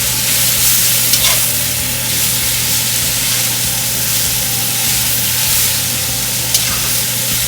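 Seasoned meat for sukiyaki soup fries in a pan with a constant loud sizzle and hiss, while faint stirring clicks occur now and then and no one speaks.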